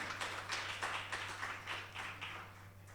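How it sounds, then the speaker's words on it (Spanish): Congregation applause at a church service: steady, dense clapping from many hands, fairly faint and diffuse as if from across the room, with a low constant hum underneath and no one speaking. "Dele fuerte el aplauso al Señor en esta mañana."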